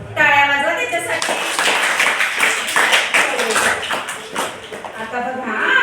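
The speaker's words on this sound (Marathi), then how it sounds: "टाळ्या वाजवा त्याच्यासाठी" Children clapping together in a second-grade ashram school classroom, a steady flurry of hand claps lasting several seconds, with children's voices calling over it.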